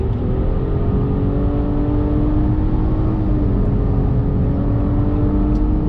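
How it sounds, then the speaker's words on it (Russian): A Nissan Murano with a CVT accelerates hard to overtake on a highway, giving a steady, loud interior engine drone and road rumble with a slowly rising tone and no talking. "Ты просто ее слегка притапливаешь, и ты уже уверенно разгоняешься"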